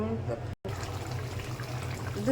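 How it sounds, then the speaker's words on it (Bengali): Hot water pours steadily into a cooking pot of coral fish curry, a continuous splashing trickle with a brief break, while someone speaks over it. "এখানে পরিমাণ মতো গরম জল দিয়ে দিলাম"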